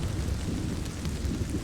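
A thunderstorm drops heavy, fat raindrops onto a meadow where butterflies shelter, giving a dense, continuous hiss of rain with a low rumble beneath it.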